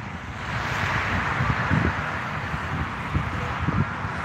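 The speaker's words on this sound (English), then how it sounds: "I know it's a little windy." Gusty wind blows outdoors in front of a frozen custard shop at its grand opening in Sevierville, a steady rushing roar with low buffeting thumps against the microphone.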